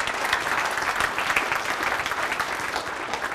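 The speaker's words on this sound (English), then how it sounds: "Give him a round of applause." Steady audience applause fills a room, a dense, even patter of many hands clapping at moderate loudness for a few seconds without any speech over it.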